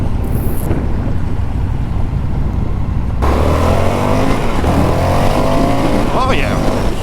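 A 2021 Indian FTR Carbon motorcycle engine accelerates hard on a test ride, its rising engine pitch sweeping upward through the gears under heavy wind rush, with a rider's voice briefly audible.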